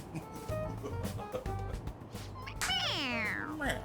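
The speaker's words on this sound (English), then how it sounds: "It meows when you press on its head." A stuffed toy cat meows when pressed in Persona 5 Royal, giving a long, bright, falling meow near the end after low game sounds and some talking.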